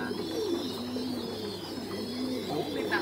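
Pigeons coo softly and repeatedly from nearby cages in a farm loft, low throaty burbling calls overlapping one another over a quiet background hum.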